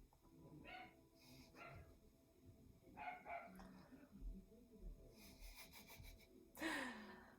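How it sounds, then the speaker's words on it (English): A dog barks in bursts from somewhere in the background, with sharp yips and a louder bark near the end, during quiet room noise and soft movement sounds in a facial treatment setting. "My dog is going nuts in the background."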